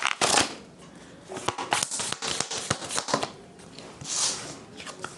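Thin tarot cards being shuffled and handled by hand, with several dropping together: a steady run of soft riffling, slapping and papery clatter, close and fairly loud, with a brief swell near the end.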